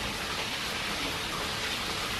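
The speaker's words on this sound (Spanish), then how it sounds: "estamos pillando un poco de lluvia y viento." Steady rain and wind from Hurricane Irma in Cuba, a dense, even wash of falling water heard alone, fairly faint and unbroken throughout.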